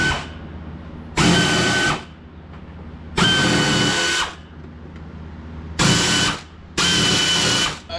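A power tool, likely an impact wrench, works on bolts on a Toyota Supra up on a lift, firing in four loud close bursts of about a second each with short quiet gaps between.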